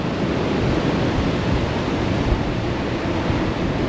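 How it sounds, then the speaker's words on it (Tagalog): Strong ocean waves crash and roar continuously below the Patapat Viaduct in Ilocos Norte, a loud, broad wash of surf mixed with wind buffeting the microphone. "Lakas ng alon!"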